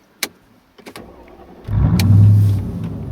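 A Mercedes S55 AMG with second cat delete, resonator and muffler removed fires up after a few clicks and faint clunks, then settles into a loud, deep, rumbling idle that swells briefly, close by with no talking.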